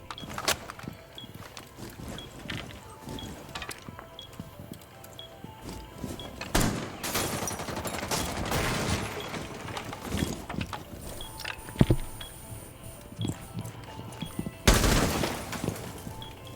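Bursts of gunfire go off in a competitive shooter match as a player pre-fires through a window into a kitchen. Scattered clattering impacts fill the gaps, and several louder, sharper volleys stand out against a busy, low background.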